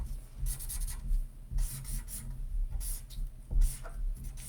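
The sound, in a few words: marker writing on a board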